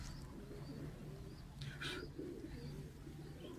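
A chhapra pigeon, head of the loft, gives low cooing calls at a quiet, steady level, with a brief higher rustle partway through.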